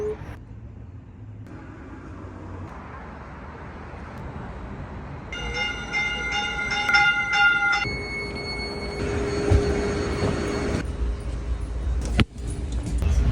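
A rumbling Caltrain idles at a California station with steady low mechanical noise, overlaid by sustained tonal horn or chime blasts and one sharp clank near the end.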